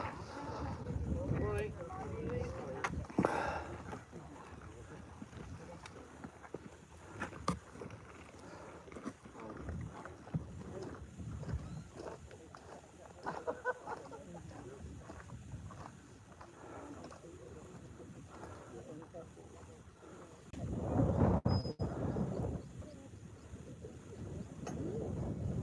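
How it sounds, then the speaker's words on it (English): Gusty wind buffets the microphone on a mountain hike. The low, blustery rumble rises and falls in irregular surges, with people talking over it. "The wind is coming over towards me, so we're walking in to where it's going to get windier."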